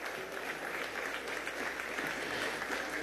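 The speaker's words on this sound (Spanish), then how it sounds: "Yo quiero un aplauso para César Rengifo" Applause fills a session of Venezuela's National Assembly, a dense, even wash of many hands clapping, quiet and continuous for the whole stretch.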